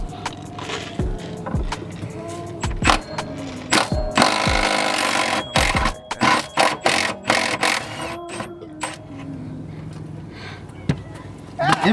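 Impact wrench rattling in repeated short bursts as it removes subframe bolts from an E36 BMW in a garage, loud and close, with people talking in between.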